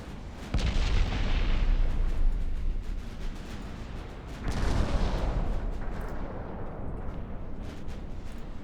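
Battleship main guns fire armor-piercing rounds in the naval video game Ultimate Admiral Dreadnoughts: two heavy booming salvos a few seconds apart, each a sharp crack followed by a long rumbling roar that slowly fades.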